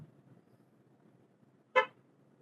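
A single short car horn honk sounds once, brief and clear, over a quiet background of low engine rumble inside the car.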